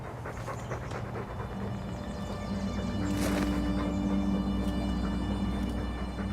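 A poisoned dog in Dragon Age 2 pants in rapid, steady rhythm close up. Its breathing runs through the whole stretch amid dense game ambience, with a thin whimpering tone joining partway through.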